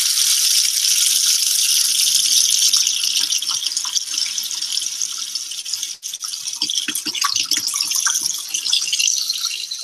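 Cold tap water runs steadily from a faucet, probably over a burned or injured spot, a continuous broadband rush with slight splashing changes partway through, close and fairly loud with no talking.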